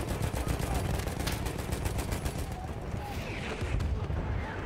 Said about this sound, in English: Thanks for the covering fire.